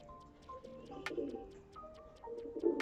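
Madrasi pigeons coo in low, rolling calls at close range, with quiet chirps and occasional sharp clicks between the coos.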